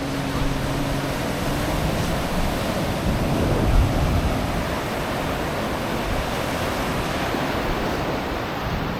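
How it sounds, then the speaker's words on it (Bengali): Ocean waves washing ashore on a Langkawi beach in clear weather, a steady, loud broadband surf with constant wind rush and no clear breaks between swells. "The waves are so much incredible, just amazing."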